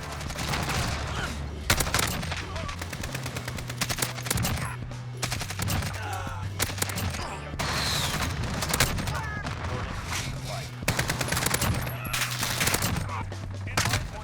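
Rapid automatic bursts from an AK-74u used as an SMG in a shooter video game, dense close gunfire in repeated long volleys with brief pauses, and a voice talking faintly underneath.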